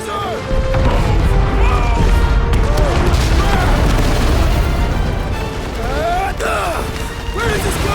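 Set charges blow in the video game Guardians of the Galaxy, a loud sustained rumble of crashes and bursts filling the scene, with voices and game noise over it.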